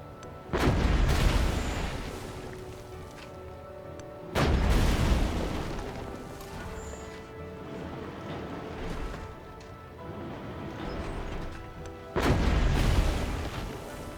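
Enemy tanks attack in the video game Civilization 7, sending three loud, booming explosions spaced several seconds apart, each with a long rumbling decay over continuous low battlefield noise.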